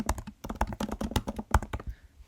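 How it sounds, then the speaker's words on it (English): Rapid, irregular keystrokes on a computer keyboard while typing onto digital sticky notes, close and crisp with short pauses between bursts and no talking. "That's how you type in Jamboard"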